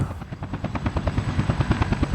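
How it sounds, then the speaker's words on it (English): A helicopter flies close and loud, its rotor pulsing in a steady rapid thump that continues for the whole stretch with no voices. "No, these helicopters, I'm not a fan."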